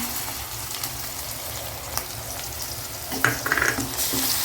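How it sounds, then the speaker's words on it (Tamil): Ground tomato paste sautéing in oil for a mushroom gravy crackles and sizzles steadily in the pan, with a few scraping stirs and bubbling bursts near the end, close and moderately loud. "தக்காளி வந்து உங்களுக்கு நல்லா வதங்கணும்."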